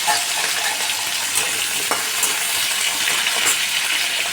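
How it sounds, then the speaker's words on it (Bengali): Potato pieces frying in a shallow layer of hot oil left in the pan after frying bori, a loud, even hiss of sizzling with faint crackles and occasional light stirring. "সেই তেলের মধ্যে আমি আলুগুলো সুন্দর করে ভেজে নেব"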